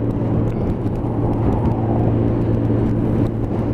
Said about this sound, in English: Big lorry.